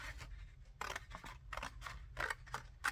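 Paper is cut with scissors for a handmade photo folder. There are several soft, close snips and crisp slicing strokes in an irregular rhythm, each one quiet.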